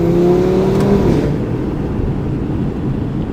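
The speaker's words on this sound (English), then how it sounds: "the intake sound just makes it so much better. This Eventuri sounds so good." An Audi RS3 with an Eventuri intake accelerates on a mountain road, its steady engine and intake roar loud and close, with a brief rising tone near the start before settling into a continuous drone.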